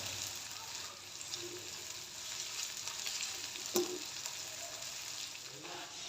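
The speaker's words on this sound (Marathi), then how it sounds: "कांद्याला गोल्डन ब्राऊन कलर तर छान परतून घेऊया" Sliced onion fries gently in oil with a soft, continuous sizzle. A single clank of a stirring spoon against the pan stands out partway through.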